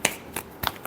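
Four sharp, crisp snaps of tarot cards being shuffled sound in quick succession, close and alone.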